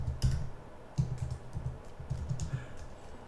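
Irregular clicks of keys struck on a computer keyboard while writing CSS code, close and fairly soft, in uneven bursts of several keystrokes with short pauses between them.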